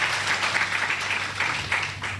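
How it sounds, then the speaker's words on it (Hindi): A crowd at a political gathering in Nagpur claps together in a dense, steady burst of moderately loud applause with a faintly pulsing rhythm and no talk. "आप एक बार अपने लिए कम से कम जोरदार ताली बजाइए"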